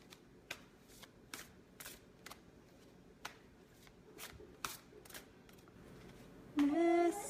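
A card is handled with a run of crisp, separate flicks and snaps spaced through the quiet, ending in a brief loud burst of voice.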